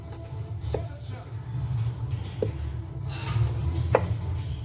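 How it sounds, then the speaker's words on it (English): A knife chops beef into cubes on a cutting board a few times, sharp separate knocks over a low background murmur. "You can cut them in like medium-sized cubes"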